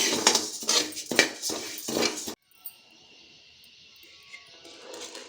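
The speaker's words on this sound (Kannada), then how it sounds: "ಉದ್ದಿನಬೇಳೆನ ಹರ್ಕೊಳ್ತಿದ್ದೀನಿ." Urad dal being stirred and roasted in a pan while making chakkuli flour, with a metal spoon scraping and clinking against the pan in several close bursts, then a quiet pause with faint rattling.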